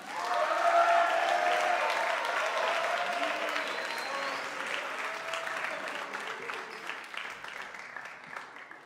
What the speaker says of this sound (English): please give a round of applause for our own Christian McBride